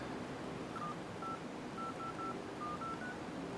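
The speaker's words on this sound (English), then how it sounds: "Just dial a fake number." Dial pad tones from a Nokia Lumia 800 Windows Phone as a number is dialed, a series of short evenly spaced beeps over steady background hiss.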